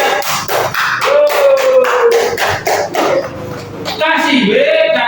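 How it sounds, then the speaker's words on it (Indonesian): A primary-school class of third graders claps hands in a quick, regular rhythm while voices chant and sing over the claps. "tepuk tangan saja"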